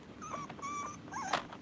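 Dogs whine and yip in short bursts, three high, wavering whimpers in close succession, fairly near and clear over a low background hum.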